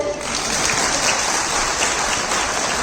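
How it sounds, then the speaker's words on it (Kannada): Crowd applause at a government employees' sports meet, a dense steady wash of many hands clapping that stays loud and continuous throughout, with no talk over it. "ಅದಕ್ಕೆ ನೀವೆಲ್ಲರೂ ದೊಡ್ಡ ಚಪ್ಪಾಳೆ"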